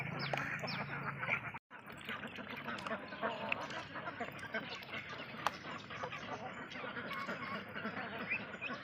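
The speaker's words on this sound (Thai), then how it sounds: "เป็ดที่ผมทดลองเลี้ยง" A flock of young farm ducks, about four months old, quack and chatter continuously at a pond, a dense busy clamor of overlapping calls at moderate distance.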